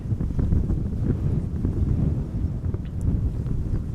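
Strong gusty wind at Amsterdam Schiphol Airport buffets the microphone, producing a constant low rumbling roar that swells and eases without a break.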